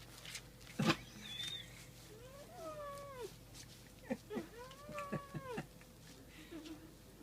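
A cat meows repeatedly in drawn-out, wavering cries with a few sharp knocks between them, close and fairly loud, and a person speaks softly at times.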